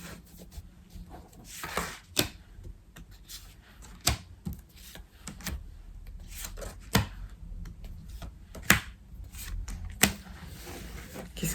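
Tarot cards being shuffled and laid out for a six-card reading, a sparse series of soft slaps and rubs with sharper taps every couple of seconds, close and quiet.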